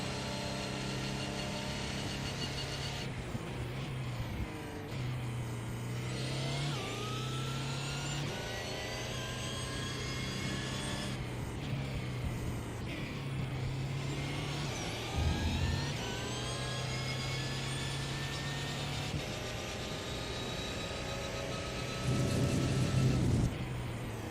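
LMP1 prototype race car engine in a racing sim, droning loudly and continuously through a lap, pitch climbing through the gears with repeated shifts and dips under braking, alone without talk.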